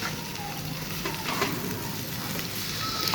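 Potato and onion mixture with chopped coriander leaves sizzling in a pan, with a steady close hiss broken by occasional soft scrapes of stirring.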